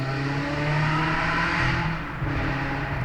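A Ferrari 360 engine hums steadily at a high, sustained pitch, loud and close, with a slight dip and recovery near the end.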